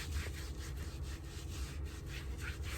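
Cloth rubbing over skin to wipe off dirt, a steady rough scrubbing texture with repeated strokes, close and fairly quiet over a constant low hum inside a van.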